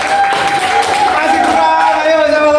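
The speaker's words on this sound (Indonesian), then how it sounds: "Tepuk tangannya dulu, kita beri lagi" Students in a classroom clap together in a steady patter of applause, with a voice speaking over it and tonal sounds mixed in.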